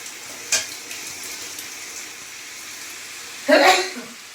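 Vegetables with bottle gourd stalks being stir-fried in a pan, a low sizzle with two louder scraping bursts of the spatula against the pan, one short near the start and a longer one near the end.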